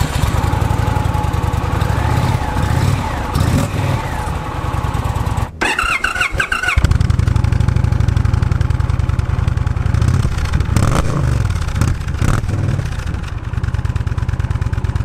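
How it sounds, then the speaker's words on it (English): A 2021 Indian Challenger Limited bagger's big twin engine rumbling through its 2-1-2 exhaust, a loud, steady low throb with revs rising and falling and a brief blip partway through. "let's go ahead and give it a listen because this big twin makes a nice rumble"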